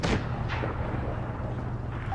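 Blind fire shots in a video game battle: a sharp gunshot burst at the start, another about half a second later and a fainter one near the end, all over a steady low rumble.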